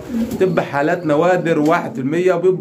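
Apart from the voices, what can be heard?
pigeons cooing in a loft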